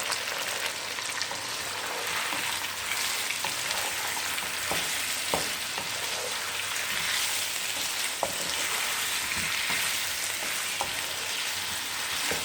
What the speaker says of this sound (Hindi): एक किलो के करीब मैंने चिकन लिया है। अब इसको हमने थोड़ा अच्छे से फ्राई करना है।